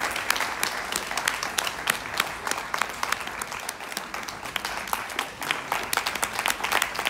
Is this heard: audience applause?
yes